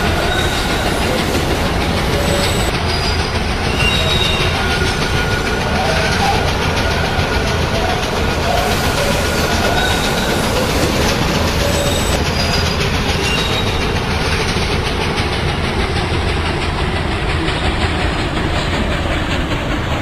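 A TTC subway train on the Yonge-University-Spadina line in the Hmmsim2 train simulator pulls into Union Station, giving a continuous loud rumble with rail clatter and faint wheel squeals, and an automated announcement is heard over it.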